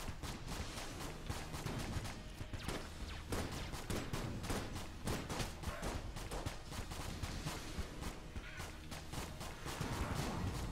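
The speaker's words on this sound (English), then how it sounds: "Let's go with the unfinished gun for now." Rapid bursts of gunfire from the Unfinished Gun in the video game Enter the Gungeon, with dense, overlapping shots crackling steadily and loudly throughout amid busy game effects.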